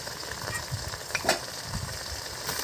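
Onion, ginger-garlic paste, dried red chilli and spices frying in a pan, a steady sizzle broken by several scraping stirs, one sharper clatter near the middle, with no one speaking.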